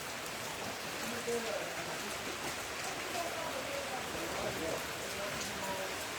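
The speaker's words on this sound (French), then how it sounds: "Avec cette pluie, ça sera vraiment pas évident." Steady rain falls outdoors as a dense, even hiss across the whole stretch, with faint voices murmuring underneath.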